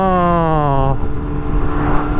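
A 2000 Yamaha R6 motorcycle with a Healtech quickshifter revs up hard under throttle, its rising whine cutting off abruptly in a clutchless upshift, then settling into a lower, rougher engine note.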